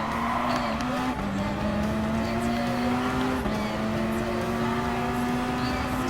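A Gr.3 Alfa Romeo 4C race car engine in Gran Turismo Sport, holding a steady, continuous high drone that shifts pitch through the gears, with brief dips at shifts around one and three seconds.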